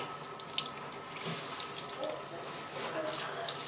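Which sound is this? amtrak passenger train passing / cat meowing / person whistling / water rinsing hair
water rinsing hair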